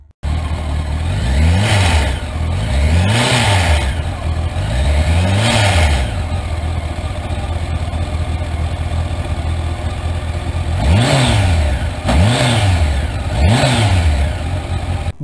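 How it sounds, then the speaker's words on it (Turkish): A used motorcycle engine revs in repeated blips, suffering from a slack cam chain whose loose rattle shows through; bursts come in two groups with a quieter idling stretch between, close and loud, with no talk. "egzantrik zincirinden böyle bir bolluk sesi geliyor"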